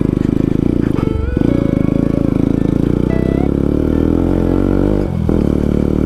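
A dirt bike revs and runs steadily along an offroad trail near Yangjakot, Pokhara, its mid-pitched engine loud and close throughout, with brief dips in throttle and some clatter.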